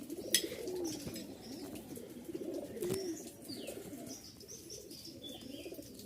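A pair of Giribaz Lal Sundori pigeons cooing softly nearby, two distinct low coos among light rustling and faint wing flutter, with faint chirps in the background.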